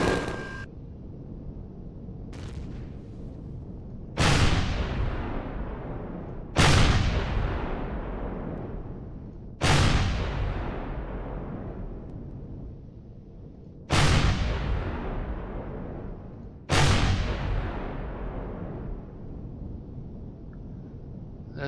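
Heavy weapon blasts in the Empyrion space game land one after another, six booming impacts spaced a few seconds apart, each with a long rumbling decay and no talking.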